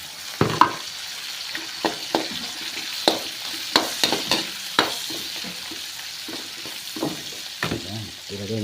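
Fresh-caught fish laid into a hot pan sizzles in a constant hiss, with sharp crackles and spatters popping at irregular intervals, close and loud, with no voices.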